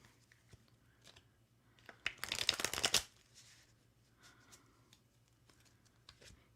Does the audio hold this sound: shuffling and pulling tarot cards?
yes